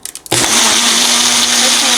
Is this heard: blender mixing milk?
yes